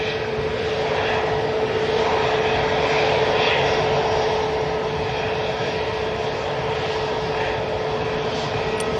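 A Ryanair airliner at Manchester Airport makes a loud, steady jet engine roar that holds at a constant level for the whole stretch, with no talking over it.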